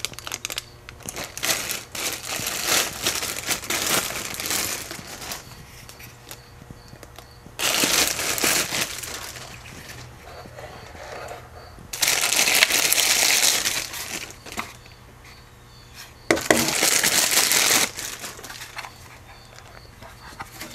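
Plastic packaging crinkles and crackles as it is pulled off a Porter Cable brushless drill and impact driver kit, coming in several loud, close bursts of crumpling with quieter rustling in between.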